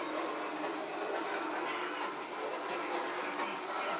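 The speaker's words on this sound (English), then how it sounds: "Say hi to the train." A passing train makes a steady, broad rushing rumble that holds at an even level throughout, with no voices.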